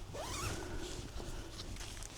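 A zipper on a Durston X-Dome 1+ backpacking tent, drawn in one close, rasping pull followed by softer fabric rustling, with no voice over it.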